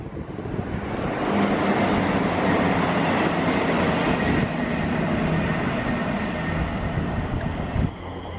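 Freight trains rolling through a railway station, a loud continuous rumble and roar of wagons passing close by with wind buffeting, steady for the whole stretch and easing slightly near the end.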